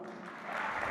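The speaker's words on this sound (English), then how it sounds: "we'll give him his applause" Audience applause at the CAF Awards 2024 ceremony after the Young Player of the Year announcement, a brief wash of clapping that swells slightly louder toward the end.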